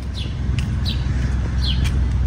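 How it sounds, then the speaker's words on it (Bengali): Birds chirping outdoors on a summer morning in Montreal, a few short clear tweets repeating over a low rumbling background, no talking. "সামার চলে এসেছে, পাখির ডাক শুনতে পাচ্ছেন।"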